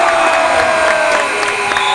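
High school boys basketball playoff crowd in a gym cheering steadily after a buzzer-beating shot, a dense sustained roar with whoops, loud and continuous.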